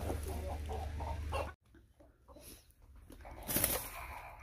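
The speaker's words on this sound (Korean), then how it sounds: "아이고 진짜 닭 싸움 요란하네요" Hens squabble loudly in a flock, with agitated clucking and squawks, a sudden pause, then another burst of close, scuffling clucks and cries.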